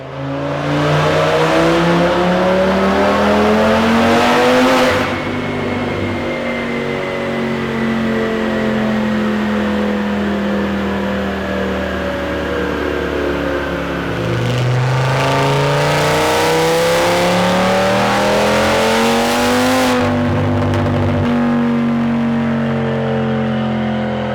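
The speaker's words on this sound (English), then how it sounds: "It's time to break in that motor, put some kilometers or miles on it, break it in thoroughly" An Audi RS3 with about $20,000 of upgrades, its freshly rebuilt engine being broken in on the road, revs up and down through repeated gear pulls, loud and close, with rising harmonic sweeps and shifts near five, fifteen and twenty seconds.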